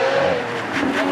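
Lamborghini Aventador with a 6.5-litre V12 running on track at a supercar weekend, a loud engine note holding steady and then climbing in pitch across a short burst with no talk.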